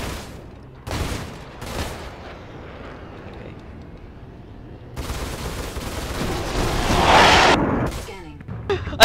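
A Hornet ship explodes in Star Citizen: broadband blasts and crackling debris noise that build to a loud burst near the end, with a voice speaking briefly at the start.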